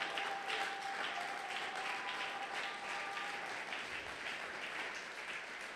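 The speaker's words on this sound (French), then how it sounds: "Est-ce que tu peux acclamer?" A church congregation at a Sunday thanksgiving worship service applauds in steady, dense clapping that fills the room without pause, loud and continuous, with a faint sustained tone and murmur beneath.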